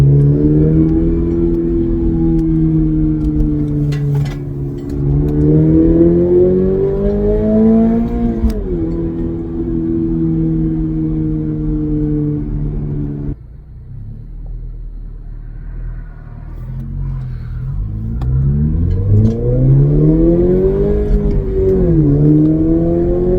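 In-cabin engine and exhaust sound from a 2023 Toyota GR86 fitted with a Borla S-Type exhaust: a steady, loud drone that climbs in pitch as the engine revs, drops off sharply, then rises again with another rev.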